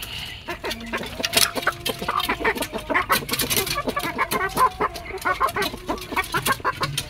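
KUB chickens clucking while pecking at fermented feed, repeated close clucks and short calls over a backdrop of scratching and pecking noises.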